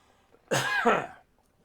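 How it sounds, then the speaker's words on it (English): One sharp, close cough bursts out, followed by a second rougher hack, then quiet. "I'm going to cough."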